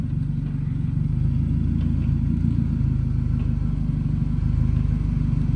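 A car engine idles and rumbles steadily as the vehicle creeps forward during an LS3 engine swap on a Pontiac G8, a loud, close, continuous low drone with faint clatter.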